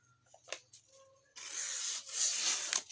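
A thick steel cattle-slaughtering machete blade is stropped with a few short rubbing strokes, then a longer, louder rasping pass, close up with no talk.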